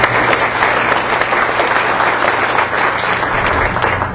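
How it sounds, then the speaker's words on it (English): Audience applause at a political candidate forum for a state assembly race, steady loud clapping from a packed room that continues without a break. "Applause to all candidates."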